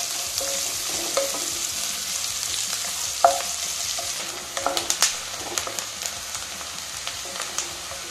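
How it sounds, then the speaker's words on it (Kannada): Onion, curry leaves and dried red chillies frying in oil in a pan for sweet pumpkin palya, a constant close sizzle with intermittent crackles and spoon scrapes that grow busier midway, no voices. "ಈರುಳ್ಳಿ, ಕರಿಬೇವು, ಒಣಮೆಣಸು. ಈರುಳ್ಳಿ ಕೆಂಪಿಗೆ ಕರ್ಕೊಳ್ಳೋಣ."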